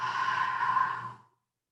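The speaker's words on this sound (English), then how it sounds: "let's take a deep breath in through our nose. Exhale it out our mouths." A single deep, breathy exhale out through the mouth during a power vinyasa yoga class, close and soft, fading out after about a second into silence.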